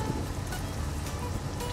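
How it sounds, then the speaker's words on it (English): Steady rain falls in American Truck Simulator, a dense, even hiss of drops on a surface with a low rumble beneath, continuous and unbroken throughout. "I've got it raining, just so you know, because it's actually raining at my house."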